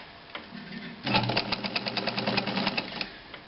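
A vintage Necchi BU Nova sewing machine, about 60 years old, starts up and runs at a steady, fast mechanical chatter, close and clear with no talk.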